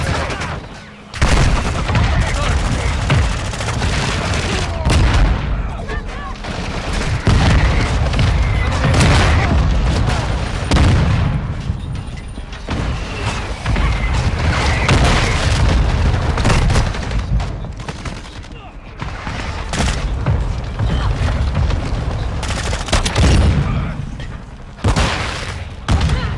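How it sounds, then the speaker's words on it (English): Mortar strike explosions in Call of Duty Modern Warfare II, with heavy booms and gunfire rolling almost continuously through the whole stretch, loud and dense with only short lulls. "Hostile mortar strike near your position."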